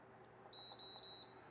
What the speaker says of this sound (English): Did that beep because you took the pan off?